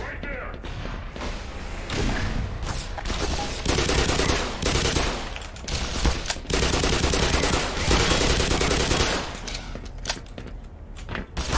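Gunfire in the Black Mesa video game, repeated loud bursts and thuds in clusters across the span, dense and close, with game sounds between volleys.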